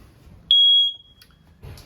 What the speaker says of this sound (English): Smoke detectors right above our heads here.